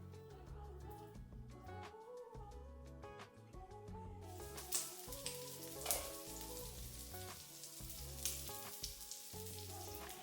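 Banh khot batter fries in the slots of a covered pan, a soft steady sizzle that brightens into a fuller crackle partway through, quiet and close with no voices.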